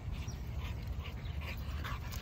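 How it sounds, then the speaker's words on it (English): A dog at a playgroup gives faint, brief whimpering yips in a few soft bursts over heavy low rumbling background noise. "There's a dog over there."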